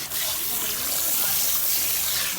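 Running water rinsing freshly dyed pink hair at a sink, a steady close broadband gush that holds evenly throughout with no speech.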